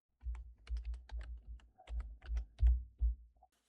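Fingers type on a computer keyboard in a quick, close run of soft key taps with brief pauses, quiet and alone.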